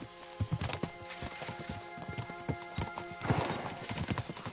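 Horses gallop in the medieval game Kingdom Come: Deliverance, their hooves clip-clopping in a steady rapid rhythm close by, with an occasional neigh and rising commotion toward the end.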